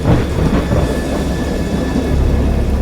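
Deep thunder rumbles continuously and loudly, a heavy rolling roar with no clear breaks.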